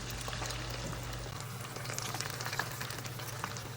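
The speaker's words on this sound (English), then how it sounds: "Just wait till you smell the curry leaves frying." Curry leaves sizzle and crackle in hot oil for a chicken 65 dish, a steady close frying hiss with scattered pops beneath a low hum.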